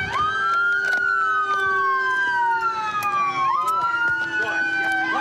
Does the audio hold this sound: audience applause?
no